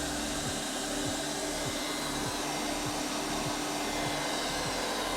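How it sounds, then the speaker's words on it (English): A Eureka Groove robot vacuum cleaner runs with a steady, loud motor whir and airflow hiss close by, marked by faint regular ticks from its moving parts, with no talking. "let's see if I tell it to start cleaning again and what it'll do"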